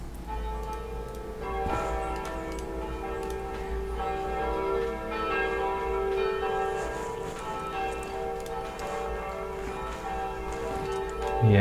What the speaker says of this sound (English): I mean the bells are ringing.